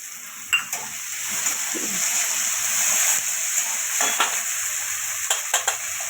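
Green peas go into a hot frying pan where urad dal is already fried in oil, giving a steady sizzle with a few sharp clinks of a spoon against the pan.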